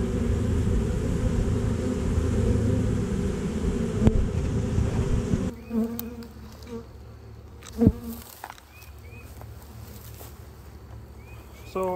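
Honeybees buzz loudly around beehives in early spring, a dense steady drone that cuts off abruptly partway through and leaves only scattered faint buzzes and a few clicks.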